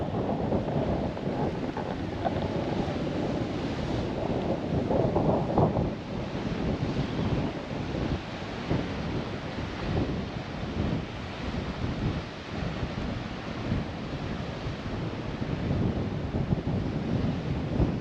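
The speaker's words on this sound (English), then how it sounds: "Sorry about the wind." Strong gusts roar over the microphone on a coast road near Cairns, a continuous loud buffeting rumble that swells and eases throughout, with no voices.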